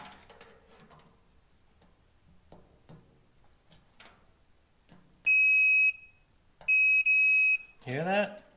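A multimeter set to continuity gives two sharp, steady electronic beeps across the starter solenoid terminals of a traditional Ford hot rod, the first short and the second longer. Faint talk and handling noises come before them, and a brief scrape follows.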